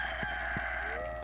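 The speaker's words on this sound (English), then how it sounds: "I can actually still kind of hear it there in that rooster crowing" A rooster crows in the farming video game Stardew Valley, one rising-and-falling call over steady game background sound, moderately loud and without talk.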